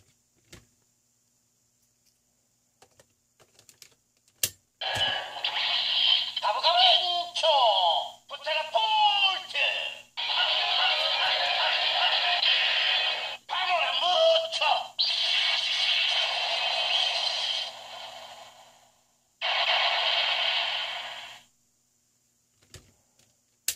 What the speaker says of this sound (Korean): 브레이브 티라노 킹에서 필살기 사운드를 들어보도록 하겠습니다.